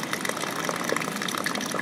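Water rushes and gushes without a break near a waterfall on the grounds of an abandoned temple in Nara. The sound is a loud, dense wash with no pauses.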